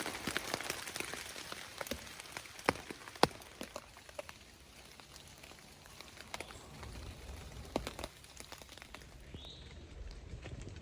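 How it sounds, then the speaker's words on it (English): Rain falls steadily through a wet woodland wild camp, scattered drops pattering and ticking on nearby surfaces over a soft constant hiss, with faint birdsong in the background and no talking. "It's nice to hear the rain, the birds."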